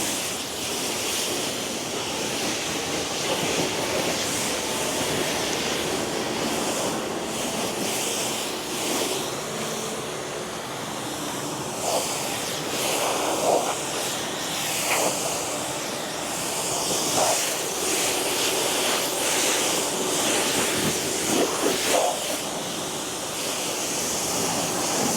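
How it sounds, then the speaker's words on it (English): Steady water spray hisses over a Subaru Forester STI during a rinse, a continuous broadband wash with uneven surges and splashes, fairly close and without any talk. "Just make sure it's fully rinsed."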